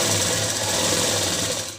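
A sewing machine runs steadily, stitching a seam on palazzo pants, with a continuous close, loud whirring hum and no pauses.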